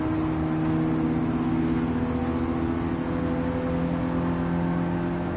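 A stock car's engine in Gran Turismo 7 holds a steady, loud droning hum with strong low harmonics and little change in pitch, running alone throughout.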